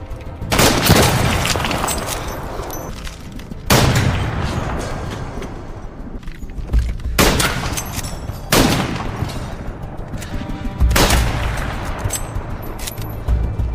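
Heavy sniper gunfire exchange in a World War I film, with several loud booming shots and bursts spaced a few seconds apart, echoing over a continuous rumbling battle background.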